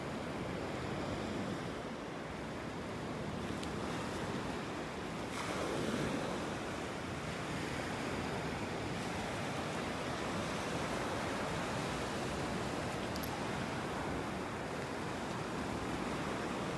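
Ocean surf washes continuously onto a beach at Delnor-Wiggins Pass in North Naples, Florida, with a steady broadband roar and some wind buffeting the microphone, and no voices.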